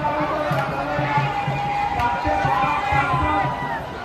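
A dense crowd fills a street during a Bhim Jayanti procession near Pune railway station, with the DJ sound system switched off by police. Steady crowd noise and nearby voices run under a regular low drum beat as people dance.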